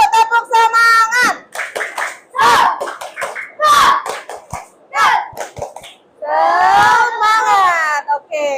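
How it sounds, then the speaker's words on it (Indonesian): A class of young children in an Islamic school chants the rhythmic 'tepuk semangat' cheer, with bursts of sharp clapping set between loud, high-pitched shouted words close up. "Tepuk semangat dulu, tepuk semangat."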